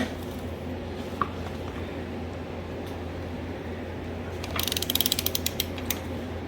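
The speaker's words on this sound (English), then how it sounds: "It's just undoing a bolt and a nut." A ratchet wrench loosening a bolt on a 1971 Yamaha RT1B 360 motorcycle frame during restoration, with a burst of quick clicking ratchet strokes near the end over a steady background hum.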